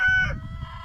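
Chickens in a coop on a farm bracing for Hurricane Florence give a short, close burst of clucking and a brief crowing call, loud at first then settling into low murmuring.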